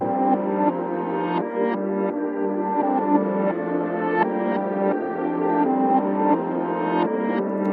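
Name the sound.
melody with halftime, EQ, retro effects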